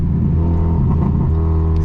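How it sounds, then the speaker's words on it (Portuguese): A 1999 VW Gol G2 1.0 8V with a loud aftermarket exhaust idles and revs nearby, giving a steady, deep, rumbling drone with slight pops and no voices. "Escapamento estralando,"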